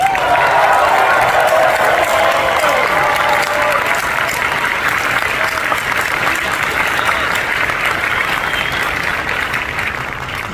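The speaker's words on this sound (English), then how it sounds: "I need a thunderous applause for Peter Cullen." A large convention crowd at a San Diego Comic-Con panel breaks into loud, sustained applause with some cheering for voice actor Peter Cullen, the clapping staying dense and full before easing slightly at the end.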